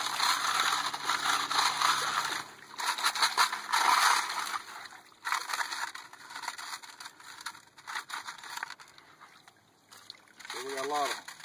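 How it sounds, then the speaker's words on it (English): Leaves and clay are rinsed in creek water while prospecting, producing close splashing, sloshing and scraping in uneven bursts that fade toward the end. "Getting all these leaves, rinse them off real good."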